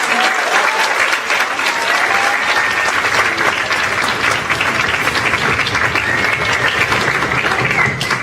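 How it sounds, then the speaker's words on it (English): Loud, continuous applause from a school band concert audience honours the students, many hands clapping close and dense, with a faint murmur of voices mixed in. "There's one more person I think we should give applause to, and that's all these hard-working students."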